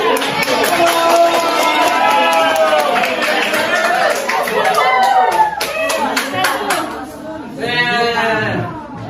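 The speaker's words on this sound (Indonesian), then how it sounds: "Tepuk tangan untuk dia." Loud, close group clapping in rhythmic bursts in a classroom, mixed with lively children's voices chattering and calling out.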